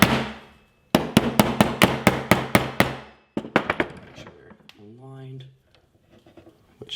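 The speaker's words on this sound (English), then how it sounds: "We'll tap these in." Sharp metallic taps ring out as pins are driven into a Ruger American MDT rifle chassis, a quick series of about eight close hammer strikes, a pause, then a few more, with a voice talking afterward.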